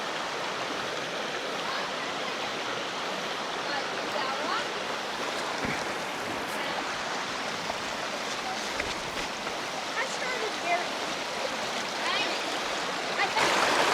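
A mountain stream flows over slippery rocks, a constant dense rush of water filling the whole clip, close and steady with faint sounds of movement on top.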